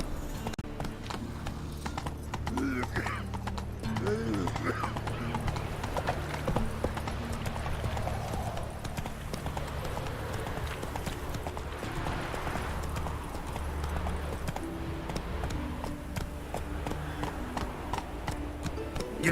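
Hooves of a horse ridden in The Witcher 3 Wild Hunt clip-clop in a continuous rhythmic gallop, close and steady for the whole stretch over a low ambient rumble with occasional faint game noises.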